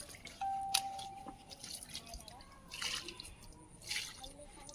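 Water poured and splashing for washing muddy feet, faint drips and small splashes at close range with low background noise.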